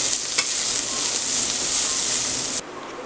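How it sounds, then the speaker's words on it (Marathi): Food stir-fried all together in a pan for a Desi Chinese dish, giving a steady loud hiss of frying and the scrape of stirring, close up, until the sizzle drops off sharply near the end, with no voices. "सगळं एकत्र आता परतवून घेऊया."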